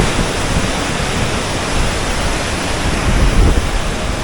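The flooded Madhvanti river surges in heavy rain near Alidhra village, Mendarda, a dense, steady roar of rushing water filling the whole clip without any voices.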